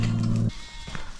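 A goat gives a single loud, nasal bleat up close for about half a second, then stops, leaving faint farmyard background noise.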